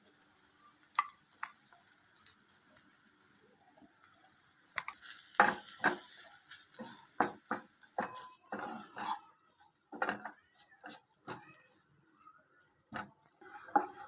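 Bitter gourd pieces coated in coconut garlic masala paste sizzle softly in a pan over medium flame, with a quiet steady fry broken by irregular stirring scrapes and clicks, close and alone.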